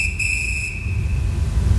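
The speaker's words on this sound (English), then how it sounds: "the 4 captured explorers heard a shrill whistle" A shrill, steady whistle rings out as a sound effect in an adventure audio drama, sustained for nearly two seconds with brief overtones at the start, over a low rumbling background.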